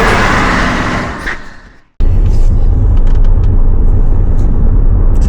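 A car idles in stop-and-go traffic on the M5 motorway: a loud rushing noise cuts off abruptly, then a steady, low engine rumble drones on without talk.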